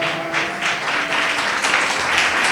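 Congregation clapping hands in praise at a church service, a steady dense patter of many hands at moderate loudness, with faint sustained tones, likely music, underneath.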